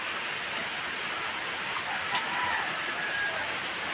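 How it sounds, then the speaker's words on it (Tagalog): Rain falls steadily during the rainy season, producing an even, broad rushing hiss that stays constant throughout. "Ulan na naman po ulit ngayon."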